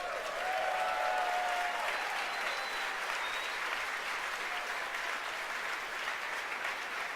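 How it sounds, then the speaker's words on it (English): A crowd watching a SpaceX Falcon Heavy launch at Kennedy Space Center applauds and cheers in a steady, sustained wash of clapping heard from a short distance. "You can hear the applause behind me as we've gotten past maximum dynamic pressure."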